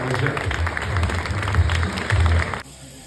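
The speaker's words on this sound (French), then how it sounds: "Et vos applaudissements donc pour Julie Garet-Méry" Steady clapping from a crowd at a trail running race awards fills the space with a dense patter, a voice speaking over it, before it cuts off abruptly.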